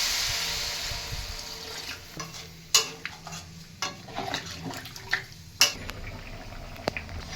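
Cucumber curry being stirred and sautéed in a pan, with soft scraping and clinks of a spoon against the pan at irregular intervals over a low background hiss, close and fairly quiet.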